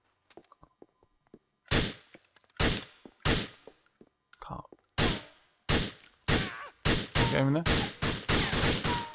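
Gunfire from the video game GTA IV: loud, sharp shots ring out with a metallic tail, scattered at first and then coming faster in a rough rhythm, with faint game sounds between them.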